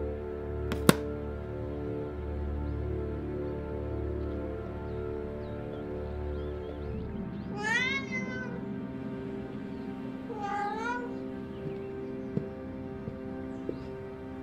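Two cat meows from a psycho thriller video game ring out one after another midway, clear over a steady droning game soundtrack with a sharp click near the start.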